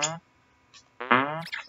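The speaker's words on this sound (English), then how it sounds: "I would like to know why my jumps make a farting noise!" Farting sound effects play when the character jumps in the Krusty's Fun House video game, heard as short buzzy blasts, one brief and then a longer one, close and loud with no talking.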